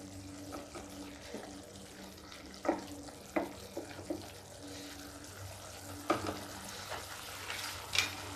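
A spice paste with tomatoes and salt fries and is stirred in a pan: a soft, low sizzle broken by intermittent scraping and clinking of the spoon.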